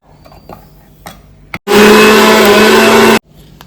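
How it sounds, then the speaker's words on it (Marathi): An electric mixer grinder whirs loudly for about a second and a half as it grinds semolina (rava) for a mango cake, starting and stopping abruptly after a few faint kitchen clatters. "रवा आपण मिक्सरच्या भांड्यात घालत आहे"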